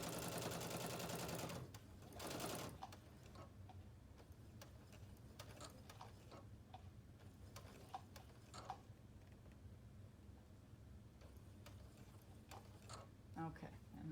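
A sewing machine stitching quilt fabric slowly: faint mechanical ticking and whirring in short bursts, quiet and close, with a few scattered clicks and a soft voice now and then.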